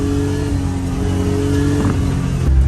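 A Daihatsu HiJet Jumbo's small engine held at high revs against its governor, a loud, steady, buzzing drone up close that barely changes pitch, with no talking.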